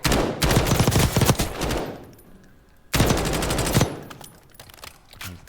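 Two bursts of rapid automatic gunfire in the Call of Duty video game, each roughly a second long and separated by a short pause, loud and sharp with dense repeated shots and trailing echo.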